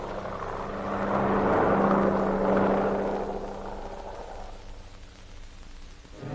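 A World War II C-47 transport plane lands at an emergency airstrip, its propeller engines a broad droning roar that swells, holds and then fades, on a 1940s archival recording.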